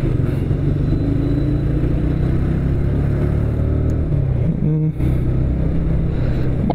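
Honda motorcycle ridden slowly through heavy town traffic, a steady loud engine drone with constant wind and road rumble throughout.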